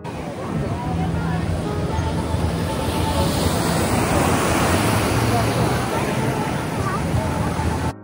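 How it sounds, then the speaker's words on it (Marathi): Ocean waves wash continuously against the shore beside Santa Monica beach pier, a broad steady surf roar mixed with wind buffeting the microphone, with no clear speech over it. "हे ठिकठिकाणी बसायला असे बेंचेस असतात, ते बसून आपण समुद्राच्या लाटांचा आनंद घेऊ शकतो"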